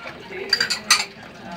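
Plates being scrubbed and washed by hand, with a few sharp clinks of dishes knocking together over a soft rubbing background. A voice is faintly present nearby.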